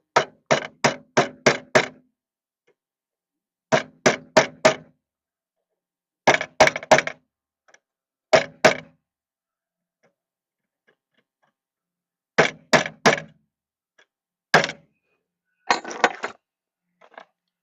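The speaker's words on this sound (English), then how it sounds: "So I need something to hammer it together." A hammer pounds pieces together in quick bursts of three to five sharp, close blows, with short silent gaps between the groups and a few lighter taps near the end.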